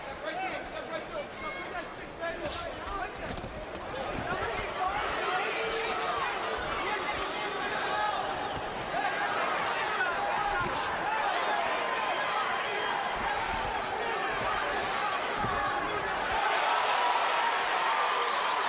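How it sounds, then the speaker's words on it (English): Boxing arena crowd at a pro fight swelling with excitement, a dense roar of cheering and chatter that grows louder toward the end, with a commentator's voice running over it. "Crowd got very excited about a right hand"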